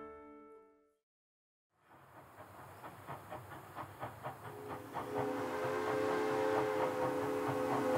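A train runs along the rails, starting after a brief silence with a rhythmic clatter of wheels that builds into a louder, steady rumble with hissing, heard fairly close.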